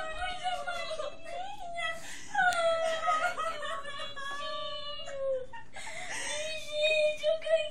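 A puppy whimpers and whines in thin, high, wavering cries that repeat through the clip, close by and fairly quiet, over faint background sound.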